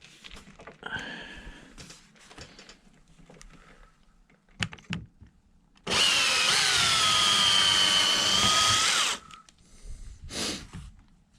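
A power drill drives a screw into corner roof trim on a full-height teardrop RV, a loud steady whine of about three seconds with rising pitch, framed by quieter handling clatter before and after.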